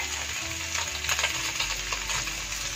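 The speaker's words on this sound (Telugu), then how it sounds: "చక్కగా పన్నీర్ మనకి ఇట్లా ఫ్రై అయిపోతుంది" Paneer frying in a pan, a steady low sizzle with occasional stirring scrapes close by, no voices.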